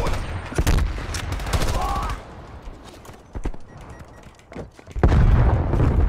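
Bursts of AUG rifle gunfire in Black Ops Cold War, a few sharp loud volleys with gaps between them and a heavier burst near the end.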